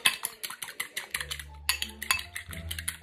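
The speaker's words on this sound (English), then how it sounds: "he had an egg, right? He seasoned it. We got to season it because we feel him. We're going to whisk the correct way." Rapid metal-on-bowl clicking of a whisk beating a seasoned egg, a quick steady rhythm of close, bright taps with no voices.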